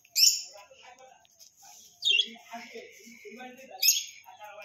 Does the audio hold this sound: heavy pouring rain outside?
no